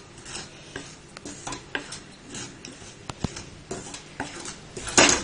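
Rice flour roasting in a pan on the stove while being stirred, soft scraping and tapping of the utensil against the pan in an irregular rhythm, close and fairly quiet with a light sizzle beneath.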